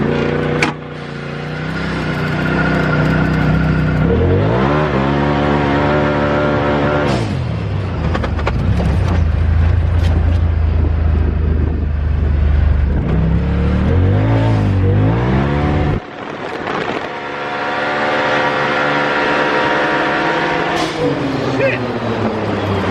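A lifted truck's engine revs and accelerates hard, its rising and falling harmonic sweeps loud and close throughout, with people talking excitedly over the engine roar.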